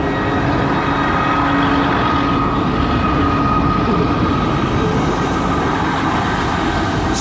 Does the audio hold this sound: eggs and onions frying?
no